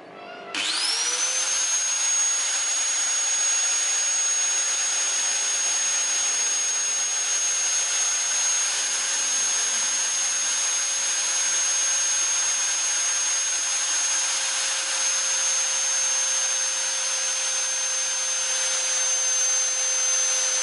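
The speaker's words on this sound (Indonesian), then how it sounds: "Sekarang kita akan mengetes getaran yang dihasilkan oleh Gerinda Rio ini." A Ryu RSG 100-3 angle grinder spins up sharply and then runs at a steady, loud, high-pitched whine for about twenty seconds, close and uninterrupted, with no voices.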